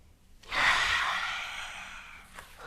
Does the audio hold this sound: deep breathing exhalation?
yes